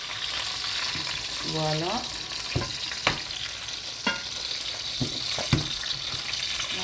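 Food sizzles gently in a frying pan while rice, vegetables and pork ribs cook, a steady hiss broken by a few sharp utensil clicks and taps, with a brief spoken word.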